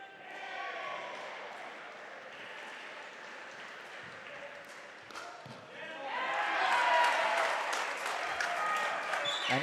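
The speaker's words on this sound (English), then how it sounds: "you can just hear the crowd get more and more into this game" A pickleball crowd at a professional semi-final in Melbourne claps and cheers. The applause is steady at first, then swells louder and denser partway through, with voices mixed in.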